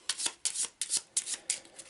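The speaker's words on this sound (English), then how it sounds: "Give it a quick shuffle." A small deck of white location cards from the Arkham Horror board game is shuffled by hand, five or six quick riffling bursts in steady rhythm, close and fairly quiet, with no talking.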